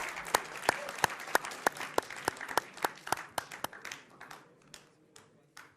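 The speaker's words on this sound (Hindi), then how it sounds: "तालियों के साथ आप दोनों का बहुत बहुत स्वागत है।" A studio audience at a televised Hindi political debate claps to welcome two guests, sharp individual claps in a steady patter that thins and fades out over several seconds.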